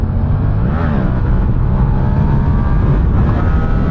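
A 2017 Yamaha MT-07 motorcycle accelerating hard in second gear for a wheelie, ridden into the wind: a loud, steady engine roar climbs in pitch, heard close with heavy wind rush throughout.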